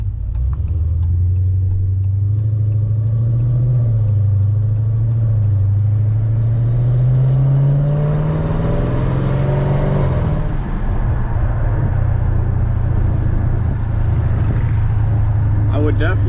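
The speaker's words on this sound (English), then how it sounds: "I would definitely miss the sound of that 392 Hemi if I did get rid of this car." Dodge Challenger with a 392 Hemi V8 rumbles steadily in a loud, deep idle that swells and dips through a brief rev around the middle, with a voice talking over it.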